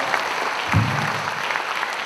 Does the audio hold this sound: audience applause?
yes